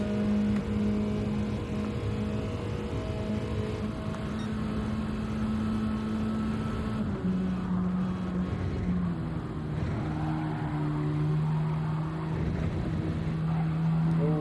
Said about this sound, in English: these cars sound magnificent